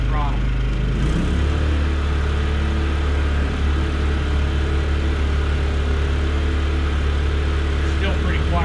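A Wen 56203i 2000-watt inverter generator runs at full throttle with eco mode off, giving a steady, fairly quiet mechanical hum and drone that continues evenly throughout without a break.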